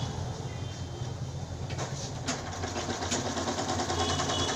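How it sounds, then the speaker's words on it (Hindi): A sewing machine stitches blouse fabric and its lining together in a fast, even mechanical whir with a rapid steady rhythm, close and moderately quiet, without talk. "इसको भी हम पूरे में सिलाई चला लेंगे ताकि कपड़ा भागे ना इधर उधर"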